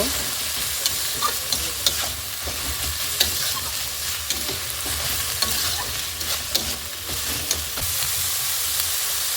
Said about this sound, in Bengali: এখন ভালো করে পেঁয়াজটা নাড়াচাড়া করে পেঁয়াজটা ভালো করে লাল করে ভেজে নেব।